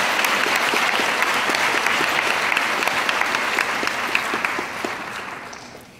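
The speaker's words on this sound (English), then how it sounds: "Please join me in giving them a round of applause." Audience applause at a school assembly: dense, steady clapping from a crowd filling the room, loud and continuous before gradually tapering off, with no talk over it.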